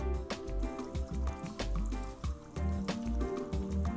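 Bubbling from the Windows XP aquarium screensaver, a stream of soft gurgling pops and drips with a steady burbling rhythm, close and clear with no talking.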